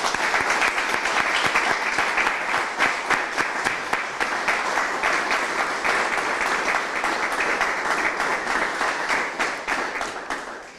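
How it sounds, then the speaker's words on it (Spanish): Sustained audience applause at the presentation of the 35th Subida a La Santa, a Spanish Mountain Championship hill climb in Murcia: dense, steady clapping from a full room, loud throughout and tapering slightly at the end. "para todos ellos este recuerdo en forma de aplauso"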